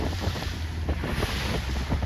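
A C420 sailboat races fast through the water, with strong wind buffeting the microphone and a continuous rush of water and spray close by; loud and steady throughout, with no voices.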